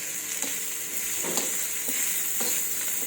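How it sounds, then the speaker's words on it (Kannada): Spices fry in a pan with a steady, close sizzle and a few soft stirring scrapes over about three seconds. "ಇದು ಸ್ವಲ್ಪ ಮೆತ್ತಗಾಗತ್ತಲ್ಲ ಫ್ರೈ ಮಾಡ್ಕೊಳ್ಳೋಣ"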